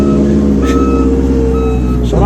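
Road works vehicles reversing during roadworks digging up a residential street, with a continuous warning beep tone over a steady heavy engine rumble, loud and fairly close throughout.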